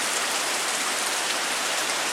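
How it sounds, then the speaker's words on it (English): Steady rain falls continuously on an outdoor farm near a fence line, a dense, even hiss without pauses and with no talking. "it's going to rain like this a little bit off and on."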